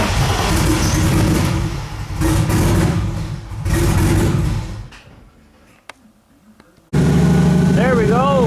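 A turbocharged BMW E36 engine with junkyard injectors runs and revs under throttle for about five seconds. It cuts out into near silence, then loud engine noise returns with a rising, whining tone.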